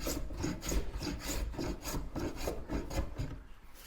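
A hand plane shaves coarse curls off wooden boards being straightened, a close, repeated rasping swish in quick back-and-forth strokes with no voices.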